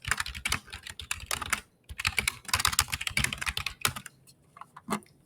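Fingers type on a computer keyboard while filling in a Google Sheets chore chart, quick uneven clusters of soft key clicks with short pauses between bursts, close and quiet, no voices.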